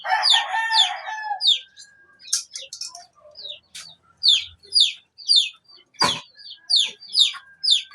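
Farmyard chickens with a rooster crowing loudly up close at the start, followed by a steady series of short, bright clucks and chirps repeating through the rest of the clip, with one sharp knock in the middle.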